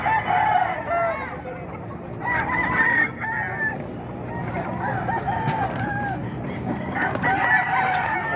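Several roosters crow repeatedly nearby, overlapping calls rising and falling, with some clucking in between.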